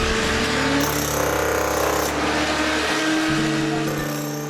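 A jackhammer pounds at a library construction site, a loud rapid hammering mixed with machine noise, heard from a moderate distance in a short continuous burst.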